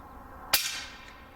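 A single suppressed rifle shot from a Rebel Silencers SOS Hunter suppressor firing subsonic loads, a sharp crack followed by a short fading tail, heard close and alone.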